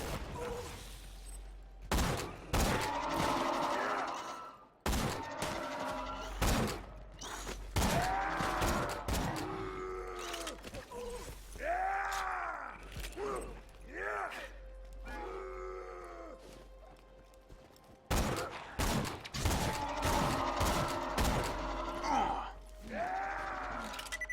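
Gunfire from shooting enemies in Borderlands 2 crackles in repeated bursts and sharp shots, mixed with groaning creature cries and tonal game effects, running dense and loud throughout.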